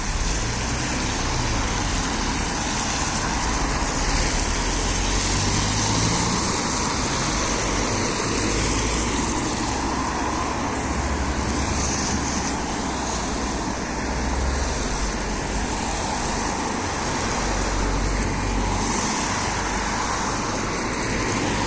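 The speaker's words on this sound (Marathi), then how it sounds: "या गाड्या गेल्या" A steady roar of road traffic in Ireland as vehicles drive past at traffic lights on a green signal, loud and broad, with no distinct pauses.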